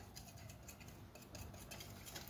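Eggs and sugar are whisked by hand in a bowl for a cake batter, giving a quiet, fast and continuous tapping and scraping of a wire whisk, close but faint, with no talk.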